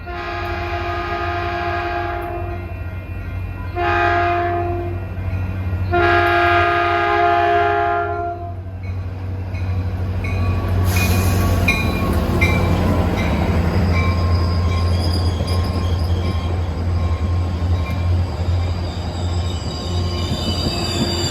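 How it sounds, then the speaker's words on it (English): A Caltrain diesel, train 134, sounds three long horn blasts as it approaches. The rumbling passage of rail cars follows, with wheel squeal and clatter building loud and close. "Attention, train 134 approaching."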